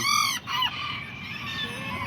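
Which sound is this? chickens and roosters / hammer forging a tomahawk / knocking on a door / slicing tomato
chickens and roosters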